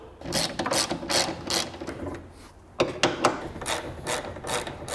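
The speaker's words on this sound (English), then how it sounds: "So we'll take out these 3 bolts in the side." A ratchet works loose bolts from a car's roof and hood panel, giving bursts of quick, close mechanical clicking that stop and start several times.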